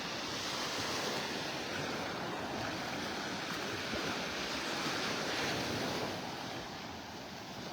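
Ocean surf on a beach in North Naples, Florida, near Clam Pass, a steady broad wash of churning waves with wind noise, loud and continuous with no talking.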